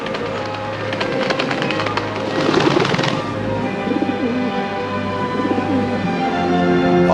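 A dove coos and flutters its wings in a film scene of the Holy Spirit descending on Jesus; a burst of wingbeats peaks midway over a sustained, layered background.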